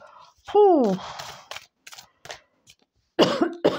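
A voice gives a short falling exclamation, then a couple of sharp coughs and throat noises follow, close to the microphone, between brief pauses.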